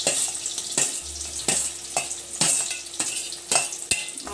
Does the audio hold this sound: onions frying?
yes